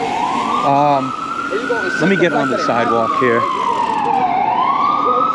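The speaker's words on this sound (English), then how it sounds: "Of course, there's an ambulance chasing me, making it really loud and annoying." An ambulance siren wails loudly as it passes along a city street, its rising and falling tone sweeping on and then dropping away, while someone speaks briefly over it.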